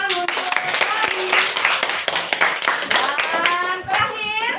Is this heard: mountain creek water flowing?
no